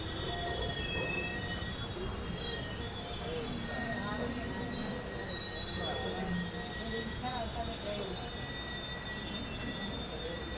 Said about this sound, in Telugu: ప్లాట్ఫామ్ 2 మీదకి మన కాచిగూడ సూపర్ ఫాస్ట్ ఎక్స్ప్రెస్ చేరుకోవడం జరిగింది